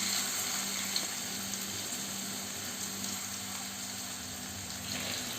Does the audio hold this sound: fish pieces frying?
yes